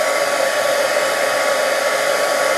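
A heat tool blasts hot air to melt thick enamel embossing powder, giving a steady, loud blower whoosh with a constant motor whine that runs unbroken throughout, with no voices.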